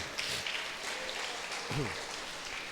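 A church congregation claps together during a Sunday service, a brief wash of scattered applause with a voice speaking over it.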